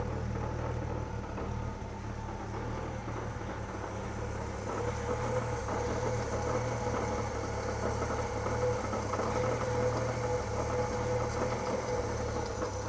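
An old Austin truck engine idles steadily with a low, even rumble and faint mechanical ticking, running alone without voices.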